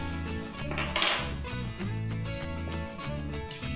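A spoon works a jaggery and poha mixture in a hot pan for poha modak, producing close, repeated metallic scrapes and clinks against the pan in an uneven rhythm.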